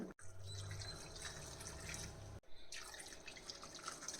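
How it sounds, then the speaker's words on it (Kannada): Three cups of water poured from a measuring cup into a pot of rice, lentils and vegetables for bisi bele bath, a soft continuous trickle and splash, quiet and close. "ಅಳತೆ ಲೋಟದಲ್ಲೇ 3 ಕಪ್ಪು ನೀರು ಸೇರಿಸ್ತಾ ಇದ್ದೀನಿ"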